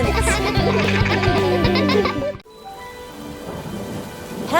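Cartoon rain and thunder effect from a Peppa Pig style animation: a loud thunder rumble over bright music, then a sudden cut to steady hissing rain for the rest of the clip.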